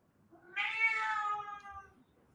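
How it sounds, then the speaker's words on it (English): An indoor cat lets out a single long, loud meow that rises and then trails off against a quiet room. "sorry about my cat, is being very loud."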